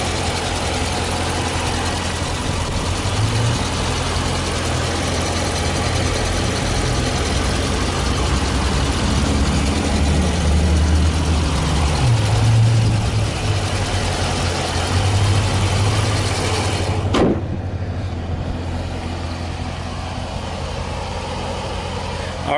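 A 2015 Dodge Challenger R/T Scat Pack with an SRT 6.4-liter, 392-cubic-inch Hemi V8 idles with a steady, deep rumble close by, holding a slightly lumpy low drone throughout with no talking.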